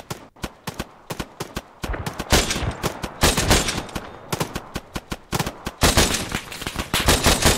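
Rapid bursts of machine gun fire and scattered single gunshots crack through an ArmA 3 military ambush on a Humvee, dense and loud, with sustained volleys overlapping and short pauses between them.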